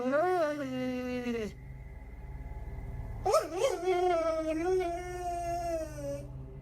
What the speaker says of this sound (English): He's seen in the video staring at something and whining for several minutes.